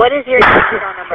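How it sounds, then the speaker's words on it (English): A single gunshot on a recorded 911 emergency phone call cracks out as a sharp, muffled burst mid-clip, partly overlapping a dispatcher's voice on the line. "There's gunshots."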